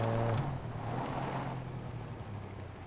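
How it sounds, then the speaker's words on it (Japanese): A motorbike engine in the survival game SCUM hums low and steady at a distance, a faint droning note lasting a few seconds. "バイクの音してる。"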